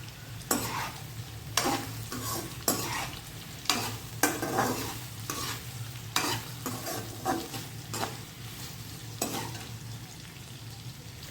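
Chunky brinjal pieces sizzle and fry in a pan for sambar, with a steady crackle broken by repeated loud scraping strokes of a spoon stirring them, close up and without any talking.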